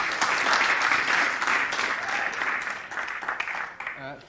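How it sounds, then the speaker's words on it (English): Audience claps for the speakers at a COP26 climate hangout event, dense steady applause that thins out toward the end as a voice begins speaking. "Let's hear a round of applause for our speakers."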